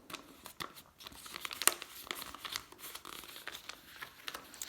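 A sheet of paper is folded by hand into an origami boat, giving close, soft crinkles and crisp creasing rustles in irregular bursts, with one sharper crackle partway through.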